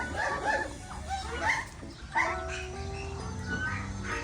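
A dog gives several yipping barks and whimpers in short bursts, close by, with a low rumble of background noise throughout.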